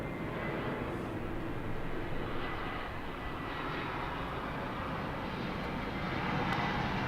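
Jet airliner taking off from runway 24 left at LAX, Los Angeles airport: a steady, broad engine roar holds at an even loudness throughout, heard from a distance with no talk over it.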